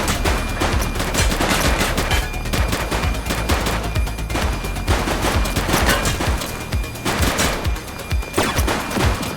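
Rapid, loud gunfire in the police game The Precinct, a dense crackle of overlapping shots that runs continuously and close throughout.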